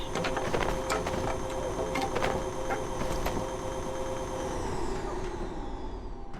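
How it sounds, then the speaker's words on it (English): Vacuum cleaner in the video game Abiotic Factor sucking up debris, a steady loud mechanical whir layered with clattering pickup sounds, continuous throughout with no speech. "it's really nice to just suck up everything with the vacuum cleaner"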